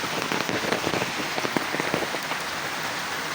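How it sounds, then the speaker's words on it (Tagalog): Steady rain falls close by outdoors, making a dense, even hiss with scattered sharper drop patter throughout. "Maulan."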